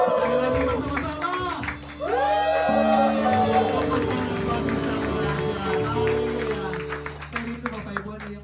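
A church congregation at a Sunday worship service cheers and claps together for several seconds, the crowd noise sustained and loud beneath strong sung or amplified voices with music.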